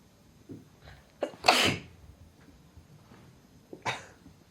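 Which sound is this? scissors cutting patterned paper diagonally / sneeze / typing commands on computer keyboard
sneeze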